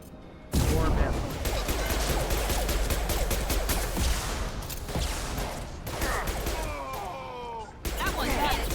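Sustained combat gunfire from Mass Effect 2, dense bursts of shots and impacts filling the whole stretch, with brief lulls and shouted voices over the fighting.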